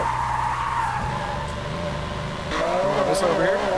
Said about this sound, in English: Let's see what happens if you pull the handbrake.